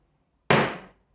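A single sharp hammer blow struck straight onto a handicraft piece, a loud, close metallic strike that rings briefly and decays within about half a second, with no talk.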